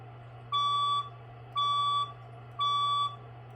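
A building fire alarm sounds during a test, three evenly spaced half-second electronic beeps over a low steady hum, with nobody talking.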